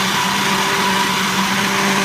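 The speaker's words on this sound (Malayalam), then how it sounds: "നമുക്കിതിനെ അരച്ചെടുക്കാം നല്ല സ്മൂത്ത് പേസ്റ്റ് ആക്കി മാറ്റണം" A mixer grinder grinds soaked rice and egg into a smooth batter, a loud, steady motor whir with a constant hum running unbroken throughout, with no voices.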